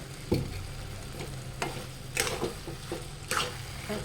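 Ghee (clarified butter) stirred into carrot halwa in a hot pan: a soft, continuous sizzle with scraping spoon strokes and a few sharper clacks against the pan, close and fairly quiet, no voices.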